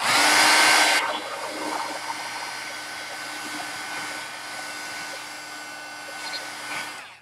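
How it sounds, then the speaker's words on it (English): A hair dryer blows loud and close for about a second on a painting in progress, then drops to a steady quieter whir that keeps running throughout. "I'm going to quickly dry this off."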